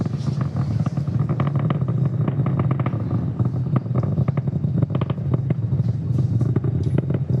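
SpaceX Falcon 9 rocket engines during ascent from Cape Canaveral, a loud continuous low rumbling roar with crackling pulses throughout, steady and unbroken.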